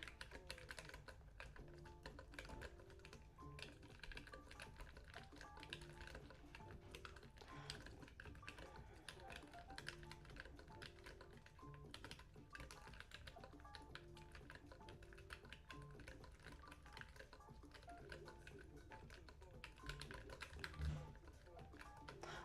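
Steady, fast clicking of keys on a computer keyboard, close up and fairly quiet, running continuously with no pauses.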